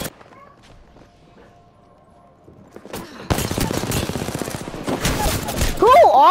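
Rapid automatic gunfire from a powerful weapon in Apex Legends bursts in loud and sustained after a quiet opening, a dense stream of shots lasting about three seconds, followed by a rising whine at the end.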